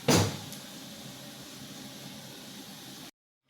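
A kitchen mixer grinder whirs through a caramel bread pudding mixture, a steady buzzing motor roar that starts with a sharp burst, runs evenly for about three seconds, then cuts off abruptly into silence.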